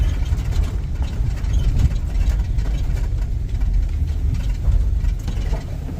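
A 2000 Chevrolet Express van engine runs with a steady, low rumbling drone, close and fairly loud throughout.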